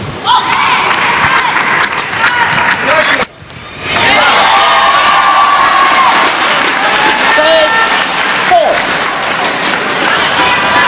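A home crowd cheers loudly at a women's team badminton quarter-final at the SEA Games, sustained roaring and shouting that dips for a moment and then surges back, with a commentator talking over it.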